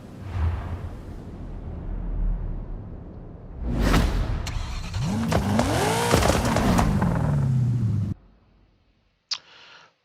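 A Foxbody Mustang fitted with anti-lag pulls away in a Forza Horizon 5 drive, revving up into a loud rising and falling engine roar with popping crackles, then cutting off abruptly, followed by a brief burst near the end.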